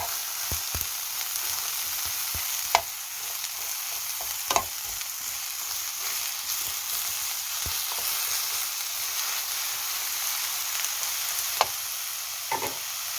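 Onions and green onions sizzle steadily in a hot pan for an eggplant stir-fry, with occasional scrapes and clicks of stirring over a constant frying hiss.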